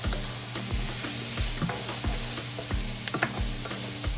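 Onions sauté in butter in a hot pan, giving a continuous bright sizzle with a steady electrical hum beneath and occasional scrapes and taps of stirring, close by with no talking.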